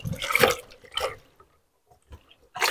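Water splashes over forearms as they are rinsed after cutting fish at a fish farm: a couple of close splashing gushes, then a pause with faint drips before another splash.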